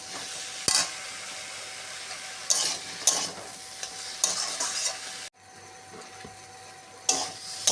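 Chopped tomatoes stir-frying in a pan for an eggplant and lentil-fritter curry, a low sizzle broken by several sharp spoon scrapes and clinks against the pan, briefly quieting before another stir.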